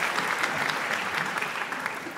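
Audience at a stand-up comedy show applauds, a steady patter of many hands clapping at moderate volume, slightly distant, continuous throughout with no talk over it.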